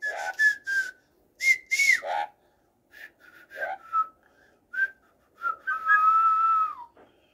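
A pet parrot whistles and sings in short bright phrases, several rising and falling whistles with brief pauses between them, close and clear with no talking.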